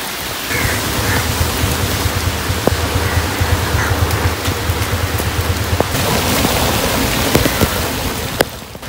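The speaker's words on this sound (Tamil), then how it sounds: "நேற்று காலை முதல் தொடர்ச்சியாக பெய்து வரும் கடும் மழை" Heavy, continuous rain pours down during a prolonged downpour in Sri Lanka, making a dense, loud, steady wash of noise with scattered sharper drop hits and no voices.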